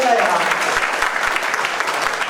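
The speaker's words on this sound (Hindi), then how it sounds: "और एक बार जोरदार ताली बजाओ तो मजा आएगा यार" Vigorous applause from a crowd at a political gathering featuring speeches and poetry, a continuous loud wash of many hands clapping for the whole stretch.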